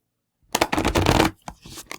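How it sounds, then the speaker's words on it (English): A deck of Celtic Spirit oracle cards is shuffled three times. A longer riffling burst comes first, then two short, crisp flutters close by, after a moment of silence. "We're looking at Celtic Spirit first with 3 shuffles."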